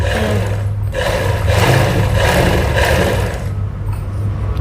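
A sewing machine winding thread onto its bobbin makes a loud, steady mechanical whir that holds almost constant for several seconds, with slight dips in pitch, close and alone.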